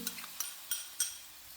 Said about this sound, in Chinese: 改大火，快速翻炒均匀